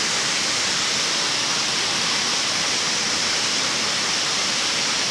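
Water rushes steadily, a dense unbroken hiss of flowing stream with no pauses or other sounds.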